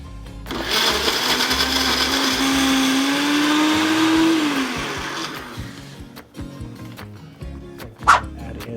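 A countertop blender roars for about five seconds, its motor pitch rising slightly as it purees a fruit smoothie, then cuts off, leaving brief clinks and a dog barking once nearby.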